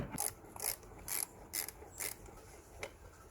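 Socket ratchet with a 5.5mm socket loosening a hose clamp at the throttle body of a Honda Civic MK8, giving six or seven short, crisp clicking bursts at an uneven rhythm, close and fairly quiet.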